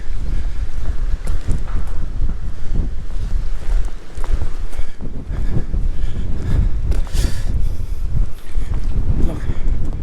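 Strong wind blusters across an exposed stretch of the Pembrokeshire coastal path, a loud, continuous roar buffeting the microphone with gusty swells throughout.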